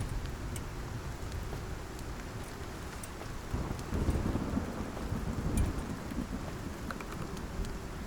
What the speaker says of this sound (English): Oh, the storm is rolling in.